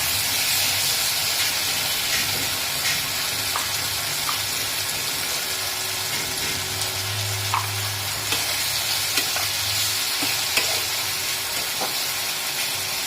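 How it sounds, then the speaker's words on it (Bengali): Spices, including ground cumin, chili, ginger and tomato paste, fry steadily in a pan for a dried fish curry, making a continuous close sizzle with occasional small pops and stirring sounds and no talk. "একটু মশলাটা ভাজা ভাজা হলে সবজিগুলো সব দিয়ে দেবো।"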